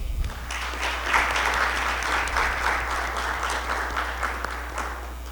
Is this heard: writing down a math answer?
no